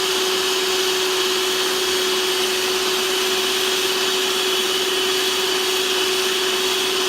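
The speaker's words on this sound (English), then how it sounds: "You might also have to help your mixer." An electric mixer beats cosplay material in a bowl with a loud, steady whine and an even drone that holds unchanged from start to finish.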